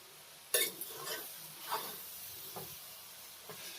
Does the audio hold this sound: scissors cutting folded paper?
no